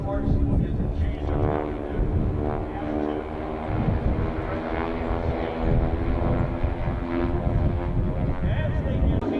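Propeller aerobatic airplanes from the Titan Aerobatic Team perform at the Dayton Air Show, their engines droning loudly and steadily with a rough, wavering buzz as they fly maneuvers such as barrel rolls.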